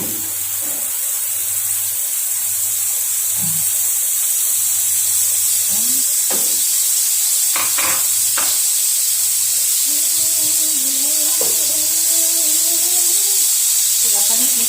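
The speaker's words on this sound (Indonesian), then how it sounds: "sekarang ayamnya mau saya bakar aja ya" Chicken pieces grilling in melted butter in a hot pan, a steady loud hiss and sizzle running throughout, with a few faint clicks and low background hum.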